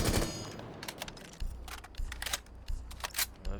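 Gunfire from a weapon fitted with a compensator in Rainbow Six Siege, a series of sharp, closely spaced automatic shots in short bursts, loud and near, no talk.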